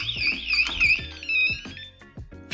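An Intelbras digital door lock sounds its alarm, a loud, warbling electronic siren tone sweeping up and down continuously, with some knocking and handling noises underneath.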